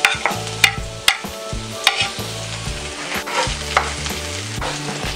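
Onions sizzle in hot oil with golden-browned garlic in a pan for tuna lumpia, with repeated scraping and clanking of a spatula stirring against the pan over a steady frying crackle.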